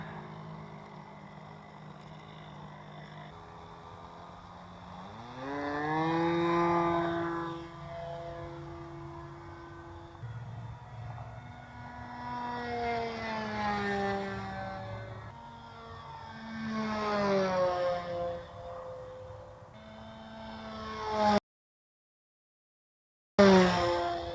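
A Balsa USA Smoothie RC plane with an OS Engines 46 AX glow engine flies overhead. The engine whines at a steady pitch that rises and falls, swelling louder on each pass as the plane approaches and then fading as it moves away.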